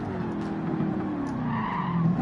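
Ford Mustang Gr4 skidding under handbrake in Gran Turismo 7, a steady drawn-out tire scrub over a constant engine drone, loud and close with no pause.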